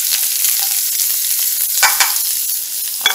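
Onion and garlic frying in oil until golden for chilaquiles, a close, dense sizzle with a couple of soft stirring knocks.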